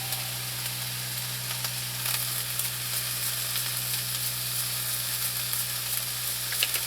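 A garden-harvest vegetable stir fry with tomatoes, pepper and salt sizzles steadily in a pan over an off-grid homestead stove, a loud continuous crackling hiss with a low hum beneath and no talk.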